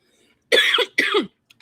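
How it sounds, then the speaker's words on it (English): A person coughs twice in quick succession, loud and close, with a throat-clearing quality and near silence around the coughs. "Does she ever not have a cough?"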